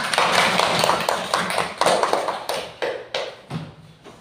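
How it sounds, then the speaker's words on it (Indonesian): Classroom of primary school pupils clapping for a presenting group, a dense burst of close, loud hand claps that thins into a few separate claps toward the end. "Tepuk tangan dulu kelompok 3."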